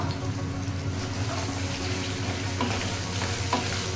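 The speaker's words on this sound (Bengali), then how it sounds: "সব কিছু একটু ফ্রাই হবে রসুনগুলো দিলাম আর দেবো কুচানো আদা" Garlic and chopped ginger frying in white oil alongside peanuts for a South Indian tomato chutney, a steady close sizzle with a few light stirring clicks.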